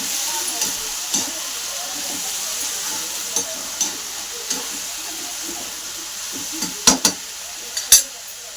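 Broad bean pods fry in a pan, a steady soft sizzle with occasional stirring scrapes and sharper clicks toward the end, no one talking.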